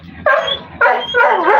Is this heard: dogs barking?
yes